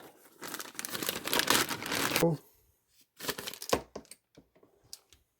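A plastic bag is handled and crinkled while a part goes back inside during power steering pump work on a 1973 Chevy Monte Carlo, with dense rustling for about two seconds, then shorter crackles and taps close by.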